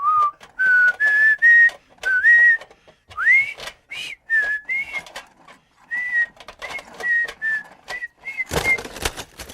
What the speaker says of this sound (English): here's Lieutenant Gordon Cozy whistling anchors away from a low position to propel a model warship.